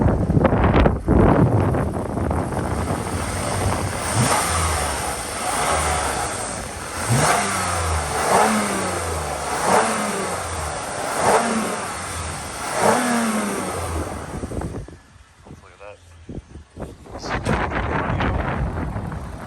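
A 2006 Toyota RAV4 3.5L engine revs repeatedly, rising and falling in pitch, with wind noise buffeting the microphone and a quieter idle near the end.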